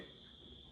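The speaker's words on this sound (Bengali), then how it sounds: "বাইরে থেকে ঝিঝি পোকার ডাক আমরা শুনতে পাচ্ছি।" Crickets chirp steadily outdoors at night in quiet Rinchenpong, West Sikkim, a continuous high, shrill trill held at an even, faint level across the short stretch.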